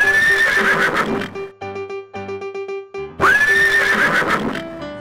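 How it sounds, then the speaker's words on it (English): A horse neighs twice, each a loud, close, quavering whinny, separated by a stretch of bright, tonal children's music. "Horse."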